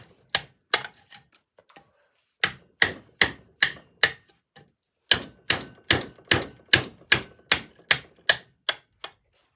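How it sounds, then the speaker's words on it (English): Sharp, repeated chopping strikes on wood, coming in quick rhythmic bursts with short pauses between groups, close and fairly loud, as wood is chopped through for a window frame. "I'm just chopping through this so that it'll sit in it nicely"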